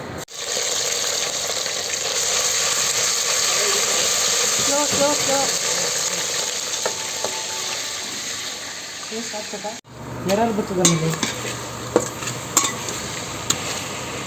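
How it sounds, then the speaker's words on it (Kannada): Oil with biryani masala sizzles in a pan during terrace cooking, a steady loud frying hiss for several seconds, then scraping stirs and clinks as voices talk over it. "ಸ್ವಲ್ಪ ಎಣ್ಣೆ ಹಾಕಿ ಸ್ವಲ್ಪ ಬಿರಿಯಾನಿ ಮಸಾಲೆಗಳು."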